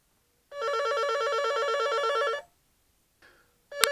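A telephone rings electronically once for about two seconds as it is being called, a steady warbling trill, followed by a brief faint chirp and the start of another ring at the end.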